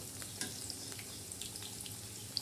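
Onion bhaji fritters frying in hot oil, a soft steady bubbling sizzle heard close but faint, with a few light pops and no talk.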